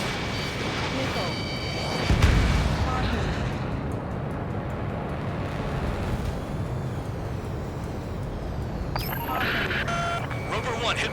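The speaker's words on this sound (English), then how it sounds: "Rover 1 hit by a missile" Missile striking an escort fighter in Ace Combat 7: a heavy explosive boom over a constant roar of jet engines, followed by sharp high-pitched warning tones, with radio voices faintly underneath.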